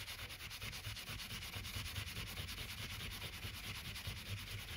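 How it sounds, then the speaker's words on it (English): Extra fine 4-0 steel wool scrubs steadily over a pewter piece, a close, continuous abrasive rubbing with a fast back-and-forth rhythm and no voices. "Now we take some extra fine steel wool, 4-0 steel wool, and we give it a rub."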